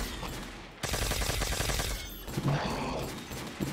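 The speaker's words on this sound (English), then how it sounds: "I'm talking about this ray gun" Ray gun fired in Call of Duty Zombies, a sudden loud burst of rapid crackling shots after a brief lull, then a second flurry.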